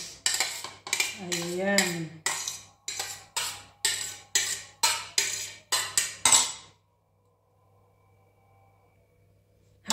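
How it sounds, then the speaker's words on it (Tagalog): Chicken longanisa roll ingredients mixed in a bowl, a run of rhythmic scraping and clinking strokes from a utensil, with a short spoken word near the start, then near silence. "Paghalu-haluin na natin itong mga ingredients."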